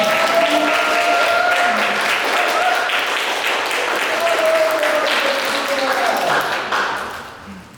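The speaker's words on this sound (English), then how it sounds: "Could we have a quick round of applause for that?" An audience at an art exhibition opening reception applauds a first-time curator with sustained, dense clapping that fades toward the end, while voices carry faintly over it.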